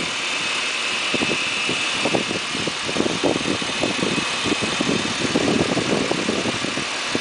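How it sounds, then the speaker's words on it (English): A 1996 Nissan Maxima GXE engine fitted with a cold air intake idles close by with a steady hum and a quick, uneven flutter of pulses, and no voices. "That's the engine. Engine cold air intake."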